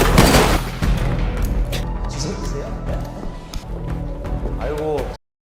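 Gunfire in a film scene, with sharp shots and bursts scattered across a tense soundtrack, mixed with movement and a short shout, all fairly loud and close.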